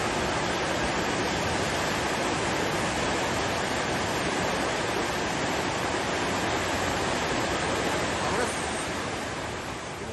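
The Vrbas river in Bosnia rushes in a dense, continuous broadband roar of turbulent water, loud and unbroken for the whole stretch, easing slightly at the very end.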